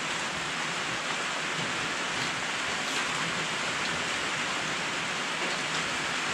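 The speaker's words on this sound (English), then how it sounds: "this beautiful Thursday morning, it happens to be pouring down rain" Heavy rain pours down outdoors near a smoker on a morning, a steady, dense wash of drops with no break throughout, and no one speaking.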